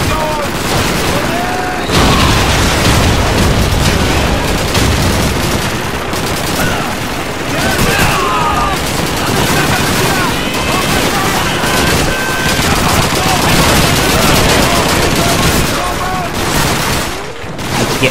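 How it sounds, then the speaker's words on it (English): Frag grenades and gunfire rage in a Call of Duty 2 battle: heavy, continuous bursts of rifle and machine-gun fire crackle over deep explosive booms for nearly twenty seconds, with voices calling out beneath the din. "Let's throw some frags in there."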